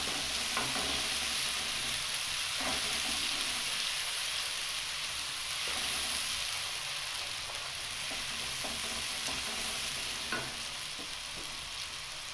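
Spices sizzle and fry in a pan for lotus stem curry, a continuous bright crackling hiss with occasional stirring clinks, steady and close throughout with no talk.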